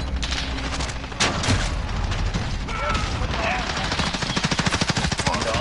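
Rapid bursts of video game gunfire, including shotgun blasts, loud and close with dense repeated shots, while a player talks over the action.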